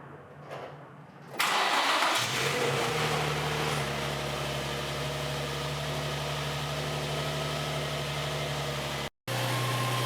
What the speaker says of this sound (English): Then start up the engine.